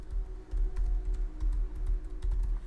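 Close, rapid typing on a computer keyboard, with irregular clusters of crisp keystrokes over a low background hum.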